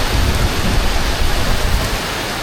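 Heavy rain pours down in a dense, steady hiss close by, unbroken for a few seconds with no voices.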